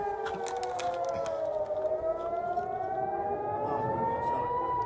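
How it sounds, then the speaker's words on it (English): Air raid sirens wail over Tel Aviv, their pitch rising slowly in long tones with a faint second siren beneath. A few sharp clicks come early, and the sound holds steady and fairly distant throughout. "We hear the air sirens wailing."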